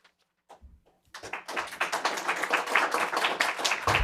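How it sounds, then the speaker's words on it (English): Applause at a Murray city council meeting swells from scattered claps into dense, sustained clapping from a crowd, filling the room steadily for about three seconds after a brief quiet start. "Please hold your applause."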